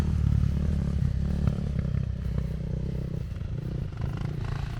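A Honda CRF300L or Kawasaki KLX300R dirt bike engine running steadily, a close, loud low thrum with clattering and scraping over rough ground, no talk.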